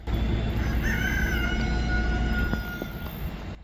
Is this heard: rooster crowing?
yes